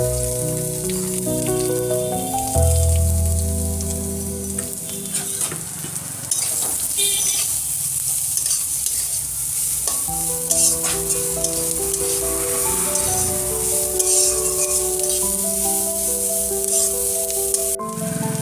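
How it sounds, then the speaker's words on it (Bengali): Carrot and capsicum fry in a pan with a continuous sizzle and occasional stirring scrapes, while a bed of music plays steadily underneath throughout. "সব একটু ভেজে নেব। প্রথমে দিচ্ছি গাজর, তারপরে দিচ্ছি ক্যাপসিকাম,"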